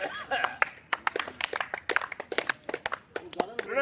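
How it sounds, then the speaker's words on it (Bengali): Hands clapping during a warm-up exercise session, a quick run of sharp, close claps in an irregular rhythm, mixed with voices talking. "আরে সুন্দর করে হাত তালি"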